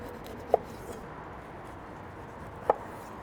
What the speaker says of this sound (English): So we're gonna take the top off, we'll square off the bottom, then shave off all these spines on the side.